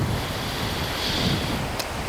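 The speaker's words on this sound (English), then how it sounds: "even though it's windy." Gusty wind buffets the microphone in a continuous low roar on an open golf course in Coppell, Texas, loud and close, with a brief sharp click near the end.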